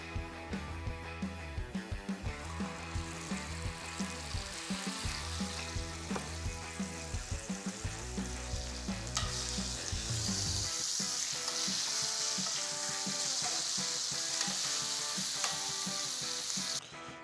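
A steak sears in a scalding hot cast iron pan, giving a loud, steady sizzle and frying hiss. Music plays underneath at first, and the hiss swells and holds on its own toward the end.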